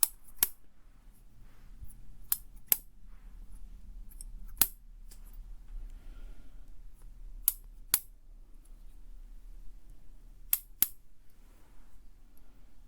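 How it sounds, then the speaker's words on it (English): Crisp, close scissors snips around the ears in a quiet ASMR setting, single sharp clicks at irregular intervals over a faint low hum. "Snip away from around your ears."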